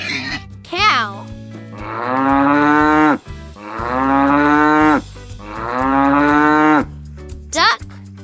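Three long, loud cow moos follow one another at an even pace, each a drawn-out bellow, with a few brief, sharper animal calls at the start and end.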